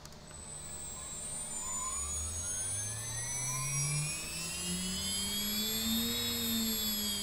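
A water-cooled CNC spindle motor on a DIY machine spins up with a rising whine that climbs steadily in pitch and then settles into a continuous high tone, moderately loud and alone.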